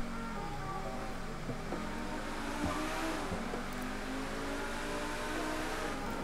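A car engine in GTA Online revs and accelerates continuously through a tunnel, pitch climbing and dropping through gear shifts, loud and steady with no talking.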